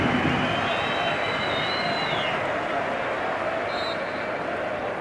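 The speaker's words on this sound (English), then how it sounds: "There might be a cheer here for Nixon." Broad, steady crowd noise fills a stadium at an Irish Cup final between Cliftonville and Glentoran as a player comes on, a continuous roar with a faint whistle-like tone early and a commentator talking over it.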